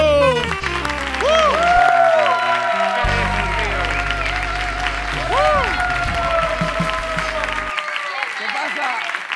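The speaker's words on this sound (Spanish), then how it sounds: "un fuerte aplauso para Jorge Puello." Comedy-night audience clapping and cheering to welcome comedian Jorge Puello on stage, loud applause under bright music that cuts out near the end.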